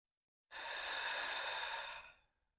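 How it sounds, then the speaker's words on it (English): One long, deep exhaled breath during a yoga pose, close and soft, rising quickly and fading out after about a second and a half, alone in silence. "So take a couple deep breaths."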